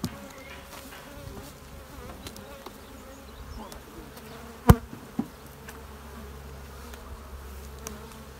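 Honey bees hum around an open hive as a honey super is set in place over a queen excluder, a soft, steady buzzing throughout with a couple of sharp knocks of wooden hive parts midway.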